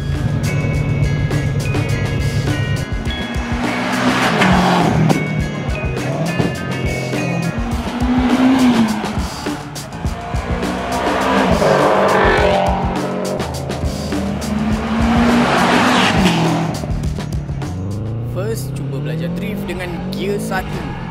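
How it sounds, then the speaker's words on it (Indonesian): Car tyres squeal and screech under a revving engine while being warmed up for drifting, loud and close in long rising and falling waves, with people talking over it. "Kita warm up tayar dulu."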